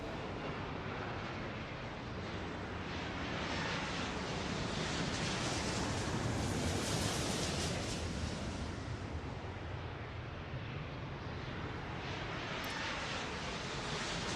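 Jet aircraft engines roar continuously during a takeoff in the Airport Madness World Edition video game, a broad, dense, steady rumble that swells slightly mid-way and holds loud and close throughout, with no talk.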